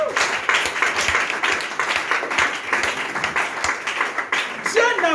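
A church congregation claps and cheers for Jesus, steady rhythmic applause with scattered shouts, fairly close and continuous, while a preacher's voice carries over it.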